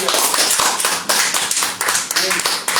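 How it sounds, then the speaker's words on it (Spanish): A church congregation applauds loudly and continuously, a dense crowd of clapping hands rising and falling in waves over nearly three seconds. "Dele aplauso a ese llamado, déselo fuerte."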